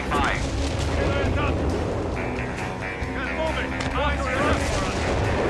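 Gunfire and artillery in a Company of Heroes 3 four-versus-four battle, dense bursts and booming blasts layered in a busy, loud mix that runs unbroken throughout.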